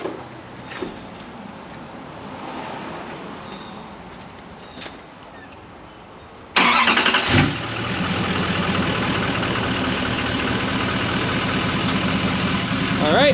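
A 2014-2019 Chevrolet Silverado / GMC Sierra pickup engine cranks and catches abruptly partway through, then settles into a steady, loud idle rumble after a quieter stretch of background noise.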